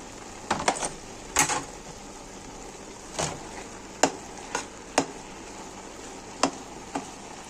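Carrots added to a frying pan for a minced meat dish are stirred, giving a quiet steady sizzle broken by several sharp scraping stir strokes at irregular intervals.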